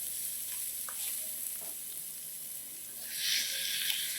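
Ground beef and an onion-shallot mixture sizzle steadily in a pan, a continuous frying hiss with faint clinks, growing brighter and louder near the end.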